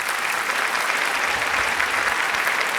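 Sustained, dense applause from a stand-up comedy audience, steady and loud throughout with no voices breaking through.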